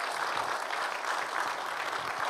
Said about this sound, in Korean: 우리 다시 한번 큰 박수로 치하했으면 좋겠습니다.